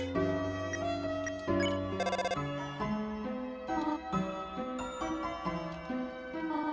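In the Deltarune Chapter 2 video game, a cell phone rings with a bright, tinkling melodic tone that plays continuously and clearly for several seconds, with no voices.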